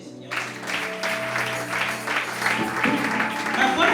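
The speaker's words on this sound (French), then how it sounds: "Est-ce qu'on peut acclamer les seigneurs?" Congregation applauds the lords at a preacher's gathering: brisk, continuous clapping rises after a brief quiet start and holds steady over a sustained tonal drone, with some voices mixed in.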